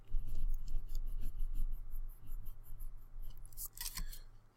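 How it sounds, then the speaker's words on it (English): An eraser rubs out a pencil line through a thin eraser shield, making quick, close, rhythmic scratchy strokes in a continuous back-and-forth burst. "And I can go without worrying and erase this line."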